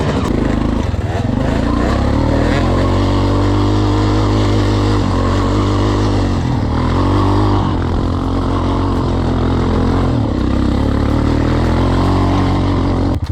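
A Yamaha off-road motorcycle, a YZ 250 two-stroke, rides on snow with a loud, continuous engine buzz close by. The pitch shifts as the throttle changes, and a voice speaks faintly under the engine.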